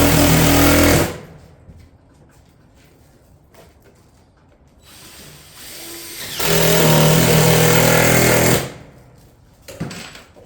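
Bursts of loud pneumatic clatter from a nail gun fastening Granite Ridge roof shingles near a ridge, with two long stretches of firing separated by quieter pauses, heard close with no speech.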